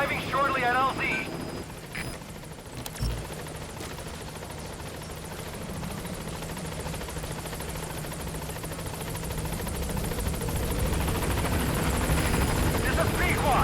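A B-Quad support helicopter in Metal Gear Solid V arrives with a steady rotor drone that grows louder over time, while a radio voice talks at the start.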